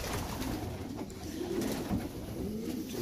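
Racing pigeons in a loft coo steadily at close range, several birds' soft, throaty calls overlapping with no talk.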